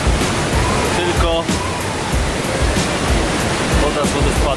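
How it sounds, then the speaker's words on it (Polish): Roaring Kulfos waterfall in Iceland, a loud, steady broadband rush of falling water that stays close and constant throughout, with brief faint speech-like sounds partway through. "woda z wodospadu. Wodospad Kulfos!"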